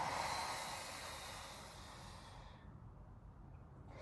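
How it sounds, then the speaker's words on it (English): A single slow breath during a ribcage-alignment exercise, drawn in and then let out as a soft airy rush that fades into near silence, close and quiet. "So go ahead, inhale and exhale."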